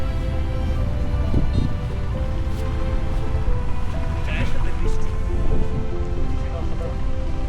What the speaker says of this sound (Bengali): চারদিকে বৃষ্টি, দূরে পাহাড়